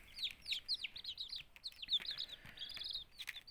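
Newly hatched chicken chicks in assorted colours and patterns peep in quick, high-pitched bursts, several overlapping chirps tumbling one after another at a soft, close level.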